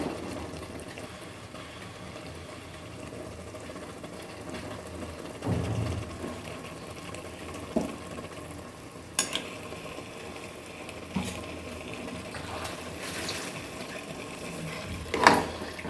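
Big chicken pieces, marinated in salt and yogurt, fry in oil for biryani, giving a steady close sizzle with occasional stirring clinks and scrapes and no talking.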